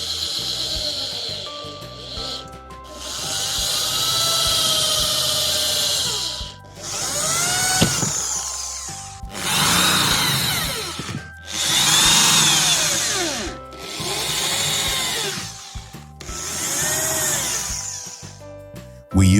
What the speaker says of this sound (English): We drill holes there for fixation.